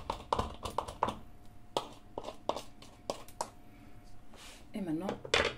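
Irregular scraping and knocking of a utensil against a metal pot while scraping out candle wax, quick clattering strokes with pauses, close by.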